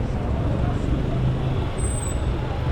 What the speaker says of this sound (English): Traffic here and there